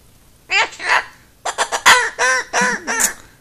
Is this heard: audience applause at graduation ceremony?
no